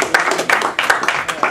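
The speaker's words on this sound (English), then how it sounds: "I think we should applaud for that" Scattered clapping from a community gathering audience, a short burst of quick irregular claps at moderate loudness, with faint voices mixed in.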